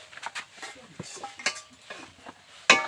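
A spoon scrapes cooked coconut filling out of a pan into a bowl, giving a few soft close scrapes and clinks before one sharper metallic knock at the end.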